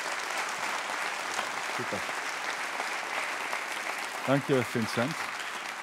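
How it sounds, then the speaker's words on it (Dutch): An audience claps steadily throughout while someone speaks briefly over the applause. "dames en heren, een warm applaus"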